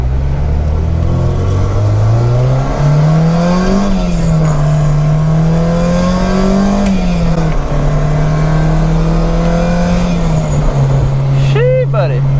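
A Honda B/D-series car engine that runs rough after sitting unused drones while driving, its low pitch rising and falling gently with throttle, as a person talks over it throughout.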